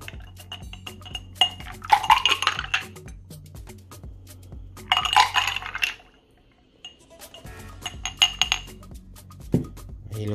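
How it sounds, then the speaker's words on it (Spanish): Glassware clinks and taps in bursts, with a strawberry malted drink sloshing as it is poured between glasses, pausing briefly before more clinking resumes. "vamos a pasar esto de un vaso a otro"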